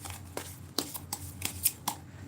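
Tarot cards being shuffled by hand during a live card reading: a series of soft, quick riffling slaps and flicks at an irregular pace, close and fairly quiet, with no speech over them.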